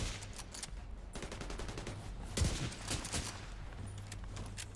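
Rapid, dense light machine gun fire from The Division 2, a steady stream of overlapping shots with one heavier impact midway, heard alone without talk.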